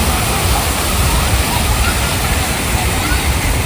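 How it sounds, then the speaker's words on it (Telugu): A park water fountain near the entrance of Lumbini Park by Hussain Sagar sends out a loud, continuous broadband rush of splashing water, with faint crowd murmur blended beneath. "సో ఇక్కడ వాటర్ ఫౌంటైన్ దగ్గరికి వచ్చినాం"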